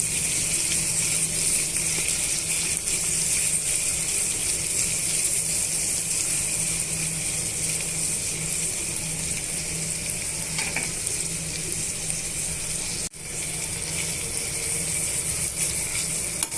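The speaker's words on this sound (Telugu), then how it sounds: "నేను పల్లీలు వేసుకొని ఒక రెండు నిమిషాలు బాగా వేయించుకోవాలి" Peanuts fry in a pan of oil for semiya upma, giving a steady, even sizzle and crackle that runs continuously at moderate loudness with no voices.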